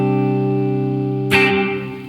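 Electric guitar played clean through a Boss Tera Echo pedal set low, a sustained chord ringing out with a smeared, reverb-like tail, then a new strummed attack with a bright burst.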